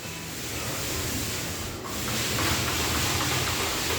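A paint roller spreading oil primer across a surface makes a steady, close, soft rubbing swish that continues without a break and grows slightly louder in the second half.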